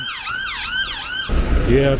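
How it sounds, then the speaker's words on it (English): An ambulance siren wails in Edinburgh, its loud rising and falling warble repeating before heavier, rumbling traffic noise takes over partway through. "this is probably the 7th time I heard the ambulance"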